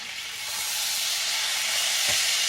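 Roast beef searing in a hot pan, a loud steady sizzle and hiss that continues without pause, close up.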